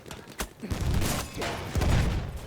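Gunfire in the World War I shooter Battlefield 1, heard as a dense, loud burst of rapid shots and rumbling blasts that continues through the clip with almost no talk.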